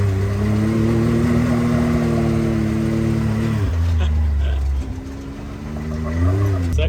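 A buggy engine revs hard as the driver floors the gas during street drifting, a loud, close roar that climbs, dips briefly, then rises again, with talk over it.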